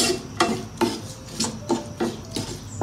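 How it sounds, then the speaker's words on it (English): Onions with cumin seeds, mustard seeds and curry leaves being stirred in a pot, a spoon scraping the pan in six regular strokes about half a second apart, close and moderately loud. "I'm going to give it a stir,"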